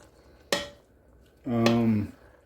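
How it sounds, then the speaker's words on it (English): A spoon clanks against a metal pot while stirring Cajun beans and rice with smoked sausage, giving one sharp knock and then a longer ringing scrape, close and alone. "Give it a good stir in."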